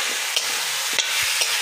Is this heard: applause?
no